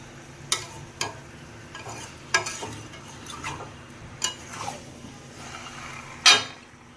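Chicken and potatoes are stir-fried with masala in a pan for curry, with quiet sizzling broken by a handful of sharp spoon scrapes and clinks against the pan; no one speaks.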